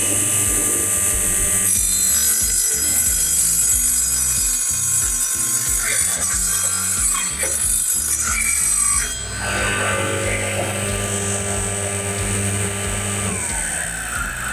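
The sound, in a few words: MOLLAR TS600 table saw cutting wood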